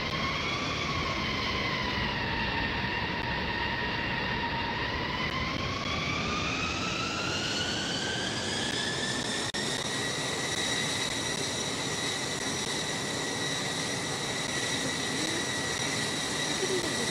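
A jet airliner in a Roblox flight simulator spools up for takeoff, its engine whine rising in pitch and holding a steady, loud, continuous roar with no talk over it.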